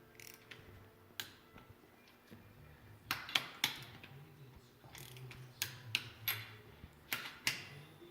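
A torque wrench clicks and ratchets as cylinder head bolts are tightened on a Rolls-Royce Silver Cloud III engine, with quiet, irregular sharp ticks and short bursts of clicks heard close up in a hushed workshop.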